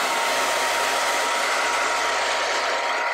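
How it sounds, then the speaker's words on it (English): A blow dryer whirs loudly and steadily up close, its airflow hissing continuously with a low hum that briefly dips midway. "I'm gonna take my blow dryer and blow it dry."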